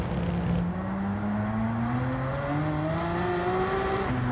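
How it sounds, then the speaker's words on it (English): A race car fitted with a racing exhaust in Gran Turismo 7 drones steadily as its engine pitch climbs through rising gear pulls, a continuous loud mechanical tone with no talking. "Sound better now with the racing exhaust"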